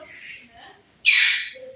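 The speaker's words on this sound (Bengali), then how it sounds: "এই বার্ডস কলোনিতে এখন একজোড়া পাখি এনেছি" A pair of pet birds in a home aviary colony: faint chirps first, then one loud, harsh squawk bursts out close by and fades, followed by a short thin call.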